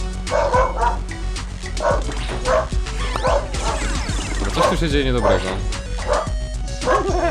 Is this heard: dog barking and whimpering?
yes